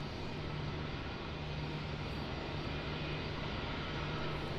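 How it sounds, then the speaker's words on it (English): An aircraft taxiing toward a runway exit at Melbourne Airport gives a steady, loud engine roar and rumble with a faint whine throughout, unbroken and without talk. "it looks like it is going to take the short exit onto runway 34"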